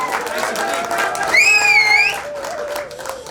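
An audience claps for Bhagwan Birajdar as he is honoured at the Bhiwandi depot staff gathering, a moderate crowd applause with a high wavering tonal sound and faint background voices over it.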